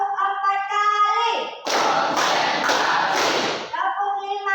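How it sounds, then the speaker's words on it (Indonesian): Hands clap in a quick counted sequence of sharp, loud claps, bracketed by voices chanting before and after during a classroom lesson. "Tepuk 1 kali, tepuk 2 kali, tepuk 3 kali, tepuk 4 kali, tepuk 5 kali."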